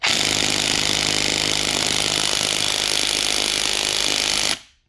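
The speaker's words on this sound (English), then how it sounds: "Either this 3/8 impact gun is weak" A 3/8 impact gun hammers on a 14 millimeter transmission bolt of a 1999 Nissan Sentra 1.6, a loud, steady, buzzing rattle held for about four and a half seconds before cutting off abruptly.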